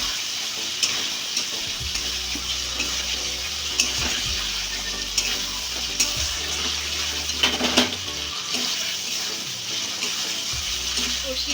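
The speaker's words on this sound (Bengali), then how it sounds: "এবার একটু আলু দিয়ে একটু কষিয়ে নেব।" Potatoes sautéed in spice paste in a pan for a vegetarian dhokar dish, a continuous close sizzle with intermittent stirring scrapes and clatters, fairly even in loudness throughout.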